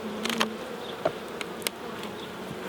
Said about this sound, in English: all this was flying bees and the old queen